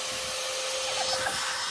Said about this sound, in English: This is our brand new Prolly belt sander.